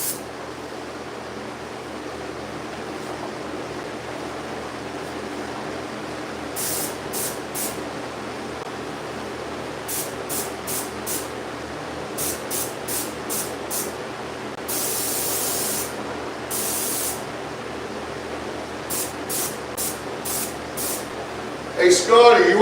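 A paint spray gun lays the final coat on a car body, trim and cabinets, a steady broad hiss with repeated short bursts as the trigger is pulled on and off, close and fairly loud throughout.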